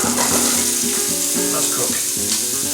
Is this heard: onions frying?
yes